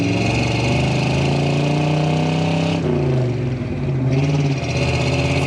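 A 1982 Chevrolet K10 truck with a 350 V8 and four-speed manual pulls away in first gear, its engine droning loud and steady with a brief dip in pitch as the revs change.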